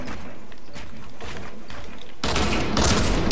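Gunfire in Fortnite Battle Royale, scattered distant shots at first followed by a loud close burst of rapid firing near the end, without talk over it.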